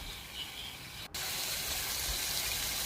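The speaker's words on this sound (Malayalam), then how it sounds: "പിന്നെ കുറച്ച് വെള്ളം ഒഴിക്കുന്നുള്ളൂ, ഒരു 1/2 ഗ്ലാസ് വെള്ളം." Half a glass of water poured into chicken curry in a pan, a steady rushing splash that fills the clip, near and fairly loud, with a brief drop at about one second.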